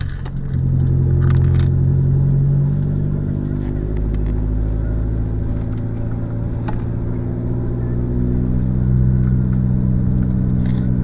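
A car cruises in third gear at roughly 1,700 to 1,800 rpm along a seaside road, its engine a steady low droning rumble with light rattles and jingles over it, close and continuous.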